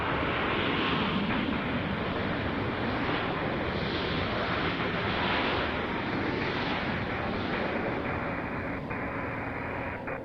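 A passenger airplane lands at Nashville International Airport, a loud, continuous roaring engine rumble with wind buffeting that stays strong and steady throughout, with no voices.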